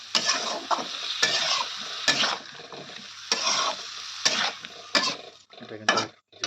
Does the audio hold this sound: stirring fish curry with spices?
yes